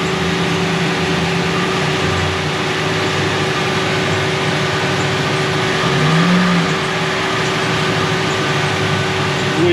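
A boat engine on a 2010 boat runs in gear with throttle applied, a loud, steady drone with a constant tonal hum and no speech.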